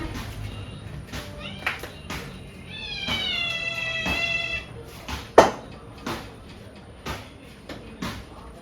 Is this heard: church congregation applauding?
no